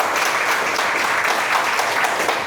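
A classroom of students applauds a classmate during an Islamic religious education lesson, producing a continuous wash of many hands clapping at an even level, with no talking.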